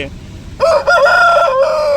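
An Aseel rooster crows once, loud and near, a single drawn-out call lasting over a second.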